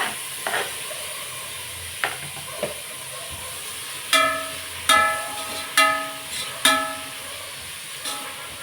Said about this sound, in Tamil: இஞ்சி பூண்டு பச்சை வாசனை போகிற வரைக்கும் நல்லா வறுத்துட்டு அப்புறம் தக்காளி போட்டுக்கலாம்